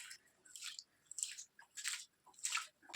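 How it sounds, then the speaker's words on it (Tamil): Rice and moong dal being washed by hand in water, a series of close, quiet wet squishes and swishes in an uneven rhythm, about five separate bursts with short pauses, no talking. "அரிசியும் பருப்பும் நல்லா சேர்ந்து வரும்போது இந்த மாதிரி நல்லா கழுவிக்கோங்க"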